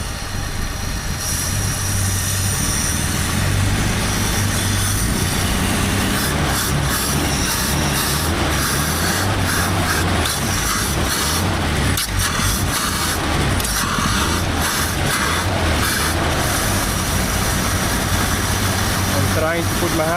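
A Plymouth NASCAR tribute car's carbureted engine runs hard in a garage, a loud continuous roar with uneven surges and rough, throbbing low end throughout.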